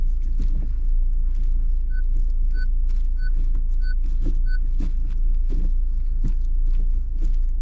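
A Honda Civic Type R FL5 engine idles with a deep, steady rumble, while a short run of evenly spaced electronic beeps chimes over it.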